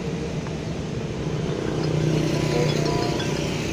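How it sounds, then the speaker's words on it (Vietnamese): A John Deere 5050D tractor engine runs at a steady idle, a continuous close mechanical rumble and clatter with a slight rise in level partway through, no voices. "giới thiệu bà con máy cày John Deere thương hiệu số 1 của Hoa Kỳ. Cái con 50-50D."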